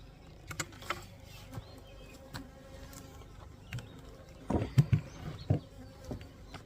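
Honeybees buzz around a hive being split outdoors, a faint steady hum with scattered close fly-bys and a louder burst of nearby wings toward the end.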